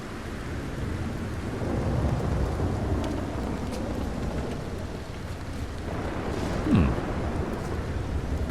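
Steady rain and rolling thunder in Red Dead Redemption 2 fill the scene as a continuous broad wash, with a louder thunder swell near the end and no voices.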